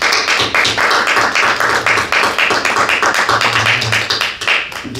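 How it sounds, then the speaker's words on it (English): A church congregation claps hands together as an offering to the Lord, producing loud, rhythmic, fairly even claps that continue for several seconds with a low hum underneath. "let us give the Lord a clap offering once again"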